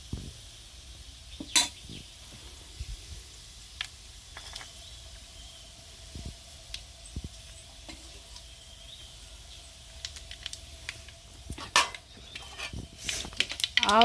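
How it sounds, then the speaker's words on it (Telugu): Mustard and fenugreek seeds fry in hot oil in a pan for fish curry, giving a faint steady sizzle with scattered pops and clinks of a utensil against the pan, close and quiet with no talk. "ఆవాలు వేగిపోయినాయి"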